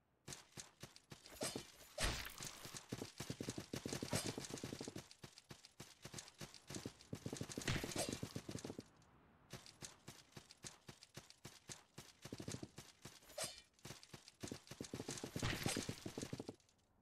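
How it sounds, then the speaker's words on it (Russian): Horse hooves in the Salt and Sanctuary video game clatter in rapid, loud galloping bursts that surge and fade repeatedly, with brief whooshes mixed in. "А как я должен от этой лошади увернуться?"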